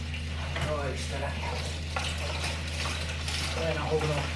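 Water trickles and splashes out of an old drain pipe during pipe cleaning, a steady wet gurgle under a constant machine hum, with people talking over it.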